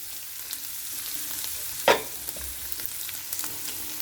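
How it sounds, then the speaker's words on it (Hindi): Onions go into hot oil for pizza cheese cutlets, with one loud hissing splash midway over a constant close frying crackle. "अब हम प्याज डालेंगे।"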